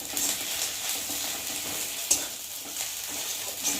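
Spices for khichuri fry in a pan, a close, soft sizzle with occasional clinks and scrapes of stirring, and no talking.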